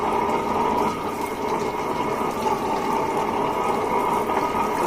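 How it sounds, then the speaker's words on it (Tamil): A little water poured onto cooked ration rice, a steady continuous splashing fill held at one level from start to finish, close and fairly loud with no voices. "ஸோ கொஞ்சோண்டு தண்ணி ஊற்றிக்கோங்க, ரொம்ப வேணாம்"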